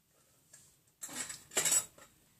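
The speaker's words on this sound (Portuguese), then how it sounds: "Peguei mais outra colherzinha." Metal teaspoons clink and scrape against each other in a few short bright bursts, close and fairly loud, as another small spoon coated in glue-stick slime is picked up, with quiet pauses between the clatters.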